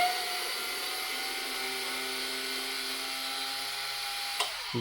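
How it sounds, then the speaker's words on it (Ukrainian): GTM SD 3.6 cordless screwdriver on second speed backing out screws, a steady whine with faint tonal lines and a small click near the end, fairly quiet and continuous with no talking. "Я не звик, що гвинти відкручуються настільки довго."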